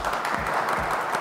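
A living-room audience in Córdoba applauds to welcome the artist Waver, with a brief continuous patter of clapping, fairly close and even throughout.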